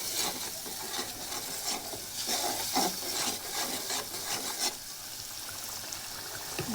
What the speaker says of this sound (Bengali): আর এখানে কিন্তু আমি মশলাটা দিয়ে মশলাটা ভালো করে কষাই নিব।